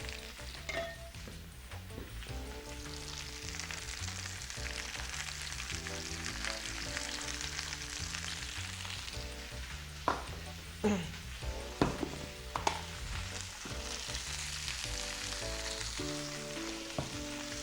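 Mushrooms seasoned with salt and pepper frying in a pan, a continuous soft sizzle with a few louder crackles and stirring knocks, low and close under a faint background hum.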